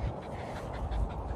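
A small dog pants softly at a private dog-walking field in Great Amwell, a steady rapid breathing rhythm kept close and low for over a second.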